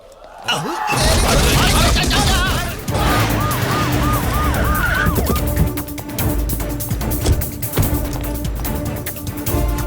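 A wailing ambulance siren rises and falls repeatedly amid loud traffic noise and clatter, fairly close and prominent.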